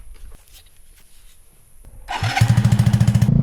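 Motorcycle engine with exhaust on fires up on a rocky trail and revs in quick, loud pulsing bursts after a quiet stretch.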